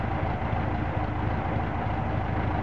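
A VW Beetle air-cooled engine runs on its original points and condenser ignition, idling with a steady, low, lumpy chug close to the listener.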